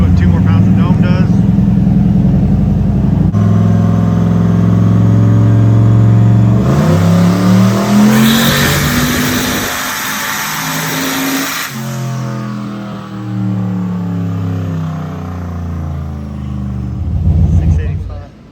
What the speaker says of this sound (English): Make another pull. We added 2 more pounds of dome.